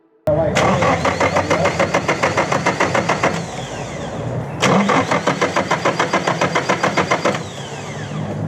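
A drift car that has sat in a garage for months cranks in rapid rhythmic pulses, first one long attempt and then a second after a brief pause, loud and close.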